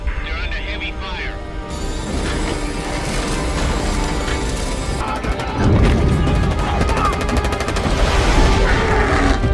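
Heavy gunfire in Halo 3: a dense, continuous battle mix of rapid shots and booming impacts, loud throughout and building toward the end, with voices talking over it.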